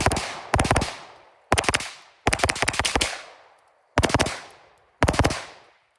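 Six sharp shots from a Springfield Armory Kuna pistol caliber carbine fired at a range, coming as a quick double, a single, a rapid string of several, then two more singles, each loud and close with a short ringing decay.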